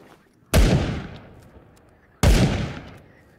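Two sharp gunshots ring out about two seconds apart in the game Will To Live Online, each a loud close crack followed by a long fading echo, with no talking.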